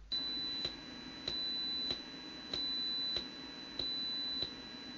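Shrill electronic tone from an MSP430 microcontroller's PWM output, steady and piercing, with a faint click and shift in level every half second as the frequency changes, repeating evenly throughout.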